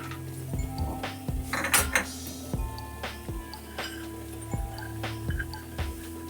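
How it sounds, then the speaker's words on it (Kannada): Cashews drop into a pan to fry for pineapple kesari bath, making a quiet, close scatter of light clinks and metallic taps against the cookware, with no one talking. "ಗೋಡಂಬಿಯನ್ನು ಹಾಕ್ತಾ ಇದ್ದೀನಿ"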